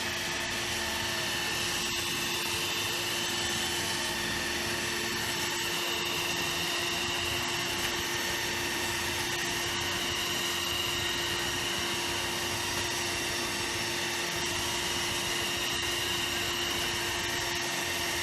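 A buffing wheel polishes the finish of a 1974 Gibson Les Paul with paste, a loud continuous whirring drone holding steady throughout, close and alone without voices.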